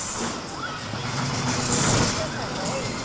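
Roller coaster brakes on the Coast Rider at Knott's Berry Farm give a broad, rushing hiss as the car slows to a stop, with riders' voices talking over it.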